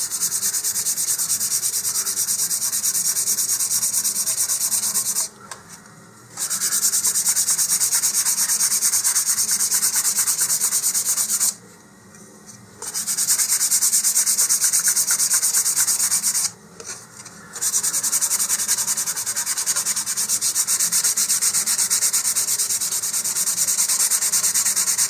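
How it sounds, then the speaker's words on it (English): Close, steady scratchy rubbing of sandpaper lightly scuffing the plastic nose cone of an Estes Olympus model rocket, broken by three short pauses between passes, with no talking. "I'm just going to sand the entire nose cone lightly"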